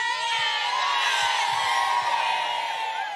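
A large, excited crowd cheers, whoops and shouts continuously at the Fortnite Summer Smash gaming event at the 2019 Australian Open, a dense wall of voices with no pauses.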